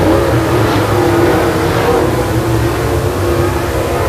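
Late model race cars roar around the track in the closing laps, a dense, steady engine drone with rising and falling revs from several cars at once, loud and continuous throughout.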